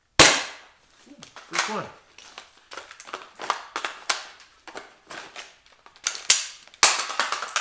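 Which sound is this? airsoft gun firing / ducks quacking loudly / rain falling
airsoft gun firing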